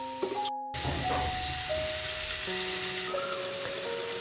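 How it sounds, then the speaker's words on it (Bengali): Mashed potatoes and spices fry in a pan with a steady close sizzle and hiss, and faint tonal sounds run underneath. No one talks. "আলু দিয়ে আমি আরেকটু কষিয়ে নিচ্ছি।"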